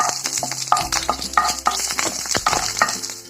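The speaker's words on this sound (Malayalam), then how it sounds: "കടുക് പൊട്ടുമ്പോൾ കറിവേപ്പിലിട്ട്" Curry leaves are dropped into hot oil with popping mustard seeds while tempering lady finger, producing a loud close sizzle with crisp crackles and spatters and intermittent stirring.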